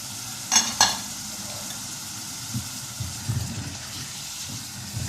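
Meat, beetroot and tomato curry frying in a pressure cooker gives a steady close sizzle, broken by a couple of sharp metallic knocks early on and softer stirring scrapes throughout.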